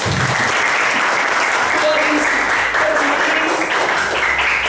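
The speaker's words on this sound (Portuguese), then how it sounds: "Palmas para os nossos" Loud, sustained congregational applause inside a church, a dense unbroken roar of clapping hands with faint voices mixed underneath.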